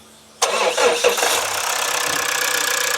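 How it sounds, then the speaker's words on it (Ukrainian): Volvo XC60 engine cranks and catches abruptly, then settles into a steady, fairly loud idle with a rough, busy texture, close by with no talk over it. "Заводимо автомобіль, зараз будемо слухати цепок"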